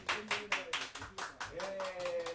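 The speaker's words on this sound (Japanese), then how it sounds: "拍手をえ" A small crowd at a live band show claps in separate bursts, about eight distinct claps spread across a couple of seconds, with a voice talking over the clapping.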